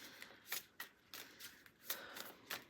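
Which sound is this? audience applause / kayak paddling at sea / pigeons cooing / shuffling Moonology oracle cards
shuffling Moonology oracle cards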